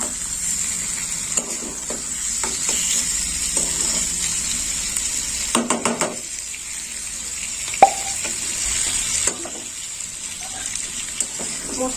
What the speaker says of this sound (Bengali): মশলাটা একটু কষা হয়ে গেলে দুধটা দিয়ে দেবো।